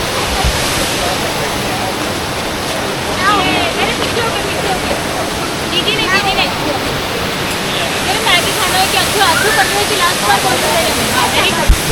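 A waterfall at Neelkanth Mahadev near Rishikesh, where people bathe under the falling water, roars in a loud, steady broadband rush throughout, with voices talking faintly under the noise.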